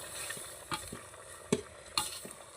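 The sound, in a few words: stirring spices in a pan for village-style chicken curry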